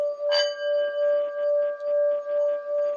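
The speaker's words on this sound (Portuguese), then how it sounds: "o sino tibetano para ir abrindo a nossa mente" A Tibetan singing bowl is struck once, then rings on as a steady, pure tone with a slow, regular wavering pulse.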